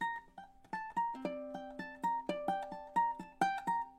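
A plucked guitar melody of quick single notes high on the fretboard, slightly dull and muddy, played softly at a moderate pace.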